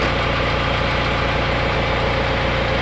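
A 4BT Cummins diesel engine fitted in a Ford Bronco idles steadily, a close, loud, even rumble with a fine rhythmic knock running throughout, no voices.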